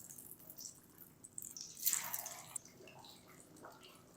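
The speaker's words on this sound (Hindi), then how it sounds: "फ्लेम को हाई रखेंगे और इसके अंदर ना हम ये फिश डाल देंगे" Pieces of fish dropped into hot oil in a kadai over a high flame for Lahori-style fish fry give a sudden hissing sizzle that swells and then settles into a softer crackle.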